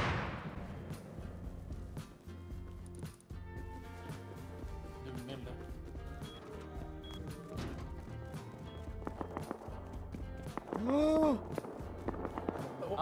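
Grenade explosion in the survival shooter Rust, with sharp explosive cracks and bursts scattered through busy game noise and footstep-like clatter. A louder flurry comes near the end.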